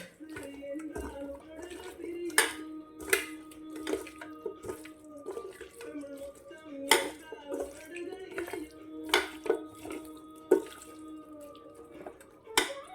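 Chicken pieces for butter chicken are worked into a marinade, giving soft wet squelches and irregular sticky clicks over a steady low kitchen hum.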